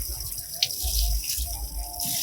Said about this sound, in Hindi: इससे ये पानी डाल देती हूँ